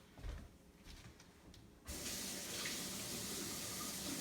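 Tap water runs steadily into a sink as a Vitamix blender is rinsed, a soft trickle at first that jumps to a full, loud, continuous hiss of flowing water for the second half.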